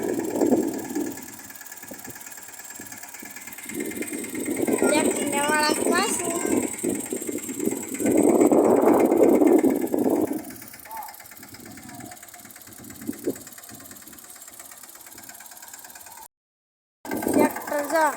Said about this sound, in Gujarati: જોઈએ ટ્રેક્ટર વાળે છે આપણે